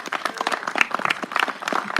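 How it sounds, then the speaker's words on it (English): Applause from a small audience at a city council campaign event, scattered individual hand claps in an uneven rhythm, close and moderately loud, with no voices over it. "Yes, a big round of applause, please."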